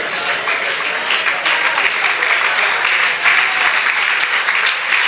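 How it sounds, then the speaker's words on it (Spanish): Congregation applauding during a church service, sustained close clapping from many hands that stays loud and even throughout, with no voices over it. "¿Quiere darle un aplauso mejor a Él?"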